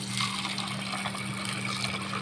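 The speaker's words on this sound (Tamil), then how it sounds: "200 ml தண்ணீர் சேர்த்துக்கலாம்." Water is poured into a bowl of lentils, whole coriander seeds and raw rice set to soak for a mango buttermilk curry, giving a soft, continuous, fairly quiet gushing that runs without pause.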